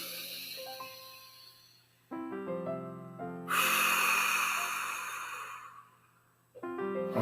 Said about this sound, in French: je vous propose juste ensemble d'inspirer profondément et d'expirer